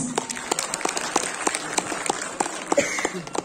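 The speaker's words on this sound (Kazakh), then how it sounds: "Шапалақтарыңыз." An audience at a children's performance applauds with steady, dense clapping, close and lively throughout.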